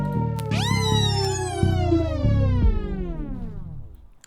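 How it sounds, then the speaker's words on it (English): A vinyl spin-down effect from the iZotope Vinyl plugin drags a music phrase down in pitch, slowing and sagging until it fades out over a few seconds, heard alone with no voices. "Now the spin down effect sounds something like this"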